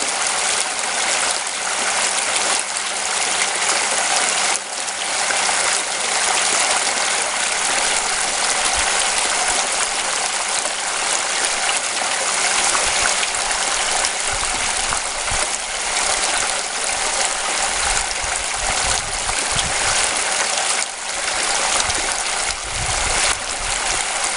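Dry pay dirt runs through a gold sluice in a steady, loud rushing and rattling wash of gravel and material, continuous throughout with no talking.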